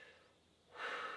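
A person exhales during a seated neck and back stretch at a park, a soft breathy rush of air that swells louder near the end, close and unaccompanied by talk.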